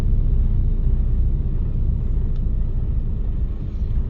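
Steady low rumble of cars idling and creeping in a traffic jam before a tunnel in mountainous Italy, a continuous dense drone with no voices.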